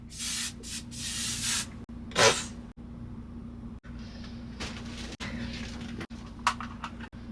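Short bursts of a hairspray-like aerosol hiss out in a close, quiet room, with several spurts and pauses and a faint steady hum beneath, no speech.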